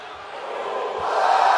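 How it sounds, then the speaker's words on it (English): A crowd cheers in a WWE 2K22 video game wrestling arena, a broad, steady roar that grows gradually louder, with no distinct voices standing out. "Listen to this crowd."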